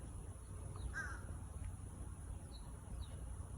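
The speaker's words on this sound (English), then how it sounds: "Look at that. 2 crows." Two crows cawing outdoors, faint and distant, giving a few short harsh caws over a steady low background hum.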